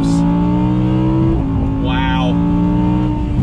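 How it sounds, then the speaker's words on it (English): 2020 Audi R8 Spyder with its S-tronic dual-clutch gearbox accelerating hard in first gear, engine note climbing loudly and close, with a quick paddle upshift dropping the pitch before it rises again; someone talks over it. "We're in first gear, rolling on throttle. Very fast shifts."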